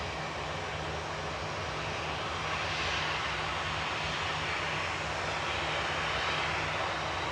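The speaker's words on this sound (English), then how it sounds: "So glad we got a 777 this week. They're so big." A Boeing 777 airliner with its flaps out at Manchester Airport gives a steady, loud engine roar. The roar stays broad and even throughout with no talk, swelling slightly in the middle and again near the end.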